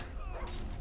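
A dog companion in the Skyrim video game gives a short, faint bark with a yelp over low game ambience and a brief mechanical click.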